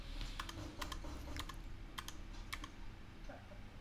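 Steady rapid typing on a computer keyboard, close and moderately quiet, with uneven bursts of key clicks and no talking.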